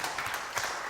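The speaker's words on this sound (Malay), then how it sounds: "Saya ucapkan terima kasih kepada semua, kepada panel, beri tepukan pada Dr. Nur Zizi" An audience at a theatre discussion session breaks into applause, a brief burst of many hands clapping close by.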